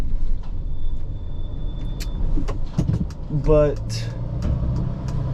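A car drives along a road with a steady, low engine and road rumble. Someone talks over it, and a brief whining mechanical sound rises in the middle.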